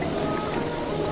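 Steady rain falls in a Breath of the Wild game world, a dense even patter close by with no other sound, lasting only a moment.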